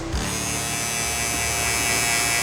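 An Andis GTX EXO cordless hair trimmer runs steadily with a continuous high buzzing whine, close and fairly loud, starting abruptly and holding even for a few seconds with no talking.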